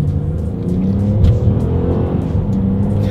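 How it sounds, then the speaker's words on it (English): A 2020 Chevrolet Impala accelerates in a steady, loud engine drone with a low rising rumble, heard from inside or close by, with no talking. "Let's do a quick little acceleration test, and let's see how quickly we can get the new 2020 Impala here up to speed."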